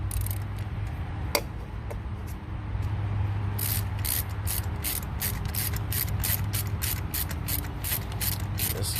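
A ratchet tightens a spark plug on a 2016 Hyundai Genesis Coupe, giving a close, rapid series of clicking pawl strokes in a steady rhythm over a low background hum.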